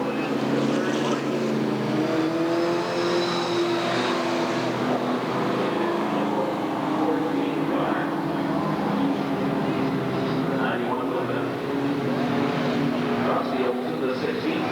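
Stock race cars roar around the Redwood Acres Raceway track in a 1991 race, a continuous loud engine drone with rising and falling passes, while an announcer talks over the noise.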